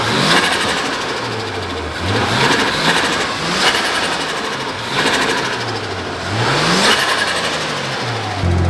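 Turbocharged car engine on a dyno, revving hard in repeated rising pulls with a loud, buzzing, high-pitched drone, each climb separated by brief dips as the revs fall back.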